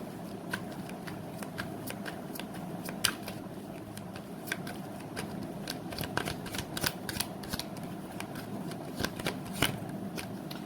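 Tarot cards being shuffled and drawn from the deck, a continuous close run of quick papery riffles and flicks with sharper snaps here and there, steady and fairly soft throughout with no talk.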